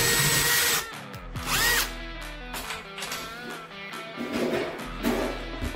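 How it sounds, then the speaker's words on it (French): A power drill bores holes into a wall for the fixings of an electric towel-rail radiator, with several loud whirring bursts separated by brief pauses and handling noises. "la première étape, ça va être de placer les trous pour les fixations"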